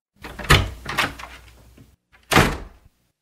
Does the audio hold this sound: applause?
no